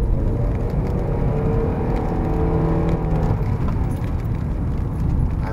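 A car pulls hard on a busy morning highway, its engine roaring loudly and continuously as it accelerates, with road and wind noise filling the cabin and no talking.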